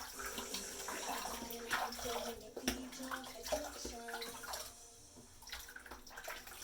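Shaving brush rinsed under a running tap, steady close water flow splashing and gurgling through the bristles, fairly quiet and continuous.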